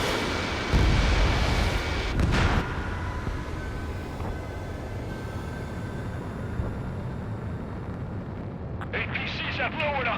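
Missile launches and explosions in the Ace Combat 7 flight game, flying an F-4E Phantom II against ground targets: a heavy, rumbling blast early on, then a sustained jet roar under radio voices.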